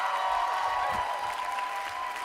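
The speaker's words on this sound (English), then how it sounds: "one more round of applause for all of our Diversity Monologues presenters this evening" Applause from a university audience for the Diversity Monologues presenters, fairly faint and steady, with a tone and a murmur of voices over it.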